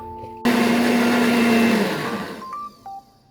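An electric kitchen blender grinds powdered spices with a loud, steady whirring roar that winds down after about two seconds, followed by a few brief clicks and beeps.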